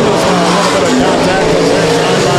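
USRA stock cars race in a heat at Rapid Speedway, their engines making a loud, continuous roar beneath an announcer talking throughout.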